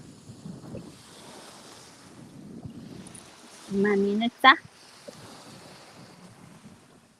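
Waves and wind at the seaside in Spain make a soft, continuous wash of surf and gusting noise with wind buffeting the microphone, while someone speaks briefly and a short electronic tone sounds partway through.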